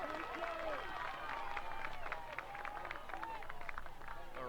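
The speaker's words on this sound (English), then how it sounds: "A roar from the crowd as Megan Ricks crosses home plate" At a college softball game between Ohio State and Penn State, the crowd roars and cheers in a sustained, moderately distant wash of noise while an announcer talks over it.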